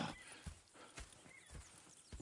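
Horses in Red Dead Redemption 2, quiet hoof clip-clops in an irregular walking rhythm with a soft snort or whinny, faint and alone without talk.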